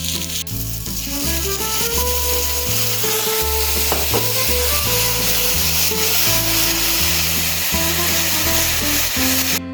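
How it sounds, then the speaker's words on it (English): Balsamic onions cook in a hot pan for a flatbread, a loud steady sizzle with scraping and stirring strokes, all under background music. "Alright, so I'm going to do some big balsamic onions for this flatbread."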